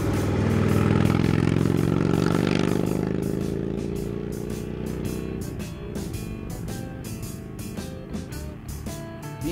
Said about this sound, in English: The engine is called the Thunderstroke 111, 111 cubic inches.